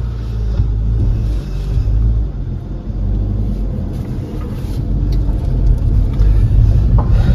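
A car pulls away and drives off, a steady low engine rumble that swells slightly toward the end with no talk.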